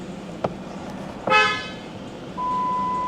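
A Jeep Cherokee Laredo 3.7 gives a single short horn toot nearby, preceded by a faint click and followed by a steady electronic chime tone.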